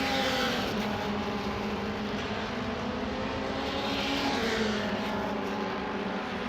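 Race cars in the MRF 2000 series, Chadwick and Young among them, roar steadily out of a right-hand turn toward the timing line, a dense continuous engine drone heard at moderate distance with no talk over it.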